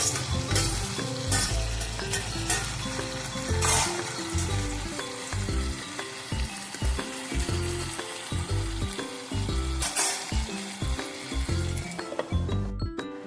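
Eggplant, dried fish and vegetables fry in a covered pan, a steady hiss and sizzle running the whole way beneath loud background music with a thumping, stepping bass.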